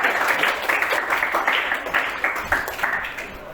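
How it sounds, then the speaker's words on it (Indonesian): A classroom of students claps together in a brief burst of applause, moderately loud and fairly rhythmic, with clustered hand claps rising and falling over a few seconds. "Kita beri tepuk tangan untuk semua."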